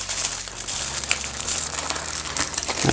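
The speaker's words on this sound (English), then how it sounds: "I'm just gonna tear off a piece of aluminum foil and then just kind of form it into a round cylinder" Aluminum foil is torn from a sheet and crumpled by hand into a round cylinder as a cannoli form, giving dense crinkling and crackling close up throughout, with no talking.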